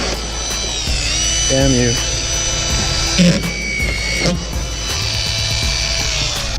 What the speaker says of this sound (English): always have screws in your hand ready to go and lock off your screw gun like this